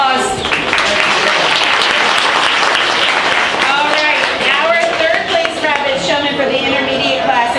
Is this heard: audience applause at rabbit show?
yes